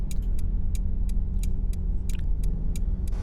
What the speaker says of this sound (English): let's actually go ahead and start up this vehicle real quick